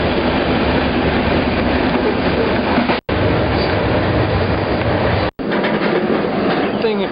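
Heard from aboard a rolling freight train in Indiana, a constant loud, noisy rumble of wheels and cars, broken by two brief cuts in the sound.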